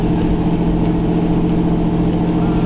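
A car engine rumbles loudly and steadily at close range as the vehicle drives off, with a dense low drone throughout and no audible speech.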